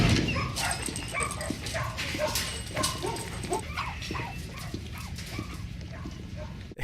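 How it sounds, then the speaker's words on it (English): Small dog in a Better Call Saul scene yipping and whimpering in short repeated bursts, set against a busy, noisy background of room sound and low rumble. "Cute little dog."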